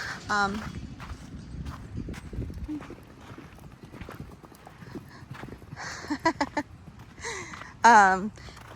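Hooves clip-clopping on the floor of a horse barn on a ranch, scattered steps under a voice talking, with a few sharp whinny-like calls near the end.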